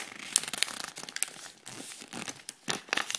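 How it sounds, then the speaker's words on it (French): Ribbon being folded in half for a laminated frame craft, producing soft, close crinkling and rustling in short irregular bursts. "vous prenez ce ruban et vous le pliez en deux"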